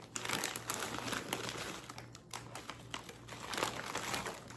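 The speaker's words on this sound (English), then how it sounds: "Now I'm gonna add a 30-ounce bag of frozen shredded hash browns." A 30-ounce bag of frozen shredded hash browns being poured into a dish, close crinkling of the plastic bag and a steady, rustling cascade of icy shreds with irregular clicks.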